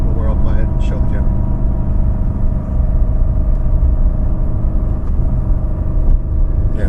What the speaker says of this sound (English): sounds a little high, a little louder in here now because the RPMs are so high, it's staying so high